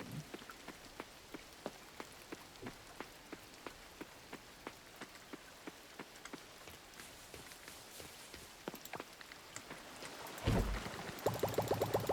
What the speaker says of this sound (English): It's nice and pretty when it's dark and raining in Coral Island.